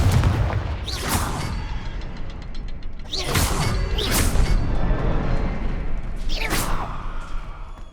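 Confringo blast spells in the Hogwarts Legacy video game go off as several sharp, loud explosive booms spaced a second or two apart, each with a hissing crackle and rumbling tail over continuous game ambience.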